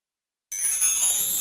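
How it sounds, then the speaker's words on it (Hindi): A bell rings suddenly after a brief silence, a bright sustained metallic tone that keeps sounding without fading. "लो, सही बात पे घंटी बजी"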